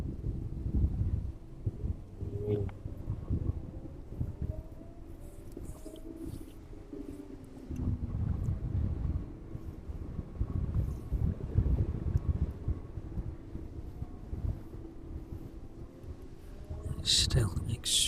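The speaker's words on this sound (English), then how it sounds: "Still extremely windy at the minute." Strong wind buffets the microphone at East Midlands Airport in low, rumbling gusts that rise and fall, with faint muffled voices underneath.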